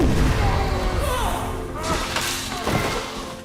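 A loud, rumbling blast fills the clip with booming low-end noise and debris-like crackle, while voices shout over it.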